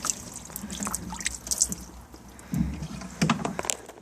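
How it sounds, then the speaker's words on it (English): Water drains out of a Carolina Skiff DLV boat hull after the drain plug is pulled, a close, uneven trickle and drip with a few louder splashy bursts. "I'm going to pull that plug, let it drain."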